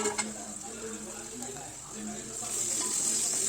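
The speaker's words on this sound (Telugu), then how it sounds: "ఒక బౌల్లో ఆయిల్ వేసుకొని ఆవాలు జీలకర్ర పచ్చిమిర్చి ఆనియన్ వేసుకొని పచ్చివాసన అయితే బాగా వేయించుకోవాలి" Mustard seeds, cumin, green chilli and onion frying in oil in a bowl, giving a steady close sizzle with light stirring scrapes and a faint hiss building toward the end.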